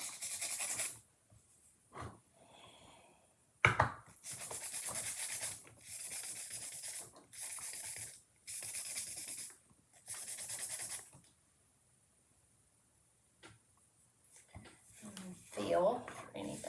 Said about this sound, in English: now you're just sanding that top layer of resin, so you're not hurting anything.